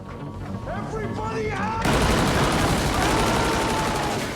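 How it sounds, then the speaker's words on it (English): Machine gun fired into the sky inside a control room in Stranger Things 3, a sustained loud burst of rapid gunfire with a dense roar. It follows a shorter stretch of voices and tonal sounds. "Hopper fires machine gun into the sky"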